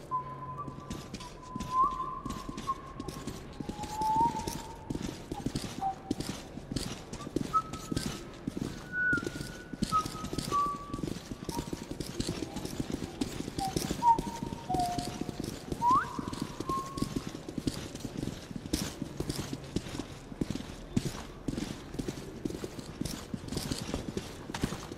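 Horses in Metro 2033 Redux clip-clop at a steady walking pace for the whole stretch, close and even, with soft whistled or whining tones drifting over the hooves.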